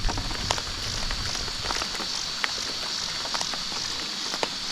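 Steady rain patters on a surface outdoors at a fishing spot, with scattered louder drops hitting nearby throughout.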